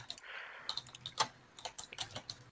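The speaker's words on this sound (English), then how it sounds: "My keyboard's probably pretty loud." Computer keyboard keys click in quick, uneven bursts during a Roblox gaming session while several programs run, a steady patter of close, fairly loud keystrokes with no talking.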